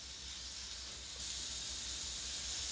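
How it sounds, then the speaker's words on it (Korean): Beef chuck flap steak sizzling on a hot grill plate, a steady close hiss that runs the whole time and swells a little louder partway through, with no talk. "지글지글 불판에 놓자마자"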